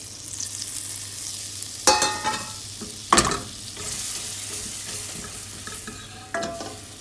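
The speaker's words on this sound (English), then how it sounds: "So just melt your butter because we're making a roux." Butter and flour roux cooking in a pan for lasagne, a soft steady sizzle broken by a few sharp spoon scrapes and stirring clatters up close.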